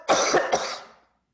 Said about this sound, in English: I'm just going to cough, a really good cough for you.